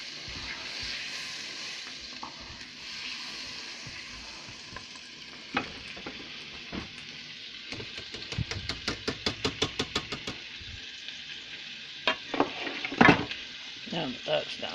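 Food frying in butter in a pan sizzles steadily while a utensil scrapes and taps in a quick run of rhythmic strokes, then a few louder knocks near the end.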